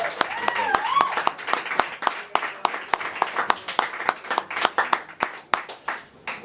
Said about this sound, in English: clap like crazy as we welcome to our stage, Joel Allegretti.